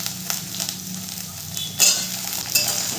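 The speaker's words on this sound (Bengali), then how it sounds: "শিমটাকে দিয়েও আমি ভালো করে ভেজে নেব নেড়ে চেড়ে।" Potatoes and flat beans sizzle and crackle while being fried and stirred in a pan, a steady close hiss with occasional scraping clinks from the spoon.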